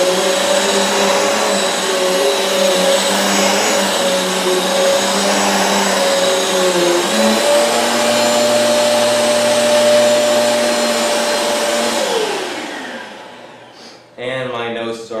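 A Eureka Airspeed One vacuum cleaner runs on carpet with a loud, steady motor whine and airflow roar, its pitch shifting partway through before it winds down and a brief mechanical clatter follows.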